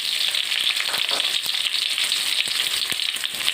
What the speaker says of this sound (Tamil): கடுகு நல்லா பொரிஞ்சதும் எடுத்து வச்சுருந்த 2 பச்சை மிளகாய், கருவேப்பிலை, அடுத்ததாக கட் பண்ணி வச்சுருக்கிற ஒரு பெரிய வெங்காயம்